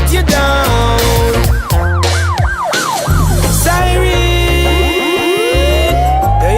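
A wailing siren rises and falls repeatedly over a loud music track with a steady beat, its sweeping tone cutting through the mix.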